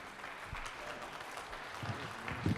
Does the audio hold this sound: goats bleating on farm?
no